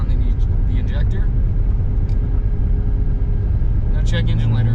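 Idling engine of a BMW 335i drift car running rough after sitting with fuel leaking onto the injectors, a loud, close, uneven low rumble that persists throughout while a voice speaks briefly over it.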